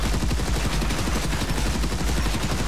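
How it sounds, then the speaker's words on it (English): A Russian PPSh-41 submachine gun firing in a video game, a loud, dense, rapid automatic burst of shots sustained without pause. "you're going to get a PPSH 41, which is the Russian submachine gun"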